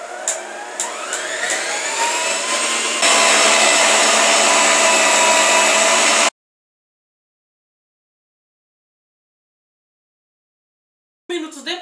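Electric stand mixer whipping a faux mousse for a decorated cake at maximum speed, a loud rising whine that settles into a steady high-pitched drone, cuts off abruptly, then after a silence starts again briefly.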